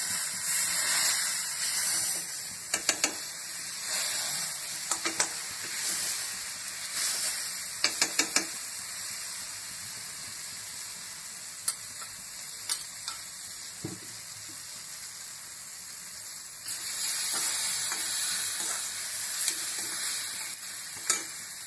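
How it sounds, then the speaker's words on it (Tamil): A pot of pepper rasam bubbles and hisses steadily while a utensil crushes tomatoes against the bottom, scraping and pressing, with occasional sharp clinks of metal on metal. "தக்காளி அப்படியே இப்படி நசுக்கி விட்டுக்கலாம்."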